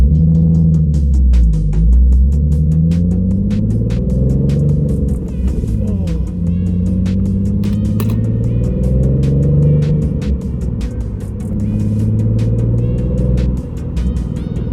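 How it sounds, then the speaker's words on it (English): Nissan Z sports car fitted with polyurethane transmission and motor mounts and test pipes, driving with a loud, steady low exhaust drone that rises and falls with throttle, heard close from inside the cabin. "Time to drop the Z and give her a little test drive"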